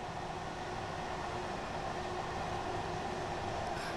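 A steady, rumbling London to Brighton train in Train Sim World runs continuously with a dense mechanical roar and rattling, unbroken and fairly close, with no voices.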